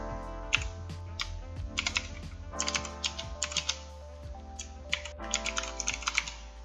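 Code being typed on a computer keyboard, rapid bursts of close key clicks with short pauses between runs, crisp and moderately loud with no voices.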